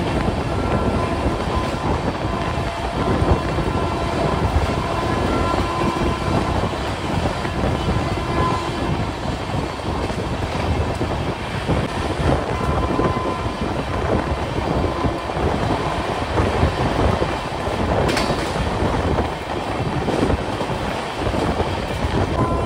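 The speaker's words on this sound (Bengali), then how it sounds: "ট্রেনটা বেশ জোরে যাচ্ছে" Sealdah–Jalpaiguri Road Humsafar Express running fast through Kalyani without stopping, heard from on board as a loud, continuous rumble with rapid wheel clatter and a brief high squeal near the end, with no talk.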